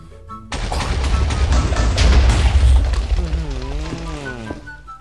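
A loud blast from a Lucky Block going off in Minecraft bursts in suddenly after a quiet start and rumbles on for several seconds, with a voice speaking over the fading tail.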